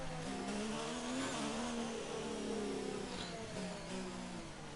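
Simulated McLaren Formula 1 car in F1 2019 at the Canadian Grand Prix, its high engine whine rising and falling as it passes, with tyre noise, loud and continuous throughout.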